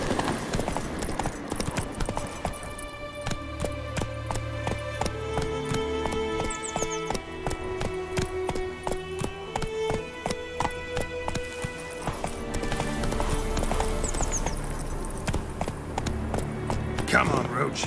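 Roach the horse gallops in The Witcher 3 game, rhythmic hoofbeats pounding steadily under a dense orchestral score, with someone talking over the action.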